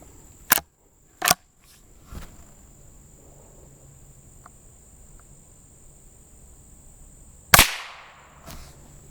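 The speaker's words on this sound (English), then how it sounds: "I'm shooting the lower left" A Rossi Rio Bravo lever-action rifle fires several sharp shots at a target outdoors, two quick cracks early and a louder one later with a short echo, over a faint steady insect buzz.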